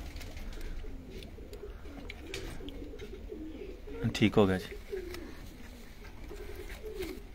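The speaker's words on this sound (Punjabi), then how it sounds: "ਇਹ ਸਾਡੇ ਕੋਲ ਲਾਲ ਅੱਖ ਦੇ ਕਬੂਤਰ ਨੇ" Red-eyed pigeons coo in a short burst of low, rolling calls partway through, under a voice with other birds faintly in the background.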